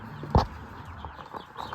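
Young chickens on a small chicken farm give a single sharp cluck followed by softer, scattered clucks and murmurs close by, with no talking.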